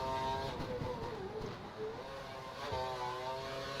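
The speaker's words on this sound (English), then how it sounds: "playing this game now is like the only way for me to hear that high-pitched engine whine in my ears" High-pitched Formula 1 car engine whine from the racing video game F1 2012, a steady, moderately faint revving tone that dips and climbs slightly, alone without talk.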